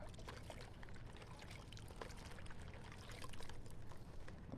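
Water poured to rinse the roots of a Paphiopedilum orchid during repotting, a faint, continuous splashing trickle, steady and quiet with no voices.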